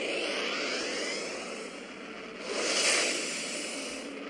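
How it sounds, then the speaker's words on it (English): A warp engine starting up in the Second Galaxy space game, a steady broadband roar with a swelling whoosh that builds partway through and then eases off, with no voices. "Starting warp engine."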